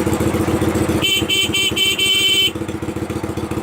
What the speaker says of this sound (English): the green button here, that's your horn.